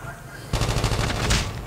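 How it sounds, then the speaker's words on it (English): Rapid automatic gunfire in the Call of Duty Mobile shooter game starts abruptly after a quiet moment and continues as a dense, close burst. "I don't know why I was shooting here."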